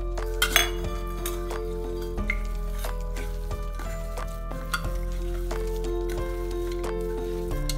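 Ground mutton mince paste is stirred in a bowl, with a utensil scraping and clinking against the side in repeated strokes at a moderate level, alone with no talk.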